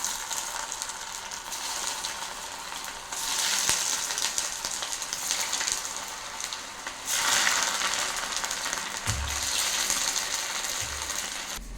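Spiced raw potato sticks for masala french fries drop one by one into hot oil. Each batch brings a loud surge of crackling sizzle, and the hiss then settles into steady close frying.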